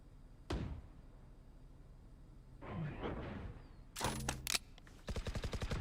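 Gunfire in a tactical shooter video game: a single sharp shot early, a muffled burst mid-way, then two rapid automatic bursts, one of them a dense rattling string of shots, with quiet gaps between.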